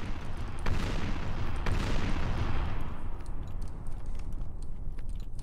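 Pistol fire in a trench-warfare video game, heard as a few sharp reports followed by rumbling, echoing booms that slowly die away, loud and near with battle noise behind.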